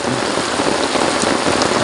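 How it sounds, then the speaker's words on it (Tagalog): Heavy rain pouring down at Dagatan Lake in Gunao, Dolores: a dense, loud, unbroken hiss of drops close by, with no voices. "Nabot tayo ng ulan mga kalahi."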